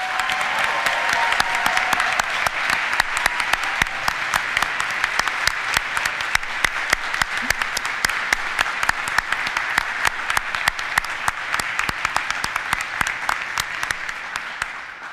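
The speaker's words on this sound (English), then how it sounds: "One more round of applause" A commencement crowd at Muskingum University gives graduates another round of applause, long sustained clapping from a large gathering with sharp individual claps standing out, steady and moderately loud for the whole stretch.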